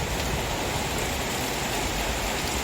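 Steady rain pours down as a dense, even hiss of drops with no pauses, close and moderately loud, with no voices.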